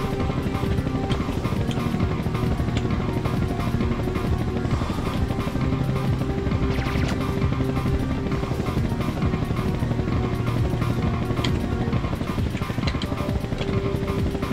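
Helicopter landing in the video game Incoming, a steady loud rotor and engine drone that holds throughout with no clear break.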